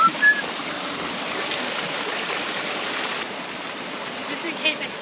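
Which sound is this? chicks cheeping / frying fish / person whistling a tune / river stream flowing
river stream flowing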